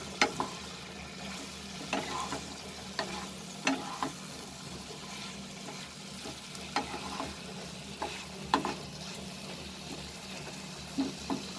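A spoon works through fried potatoes and cauliflower in a pan of aloo gobi curry, giving soft scraping stirs and occasional clacks over a steady low sizzle, with no voices.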